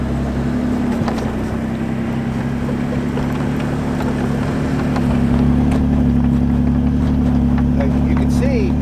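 A truck crawls forward through deep snow in first gear with multi-terrain select engaged, its engine giving a steady low drone and hum that swells slightly toward the end, with some wind and a voice speaking over it.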